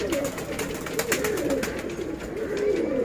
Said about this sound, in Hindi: जिसमें सिर्फ टेडी कबूतर है